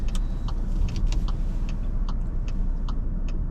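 Turn signal indicator of a car ticking in a steady rhythm of regular clicks, about eight over a few seconds, above a constant low engine and road rumble inside the car during a driving test route.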